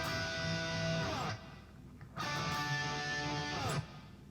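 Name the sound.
electric guitar chord strummed, synth lead tone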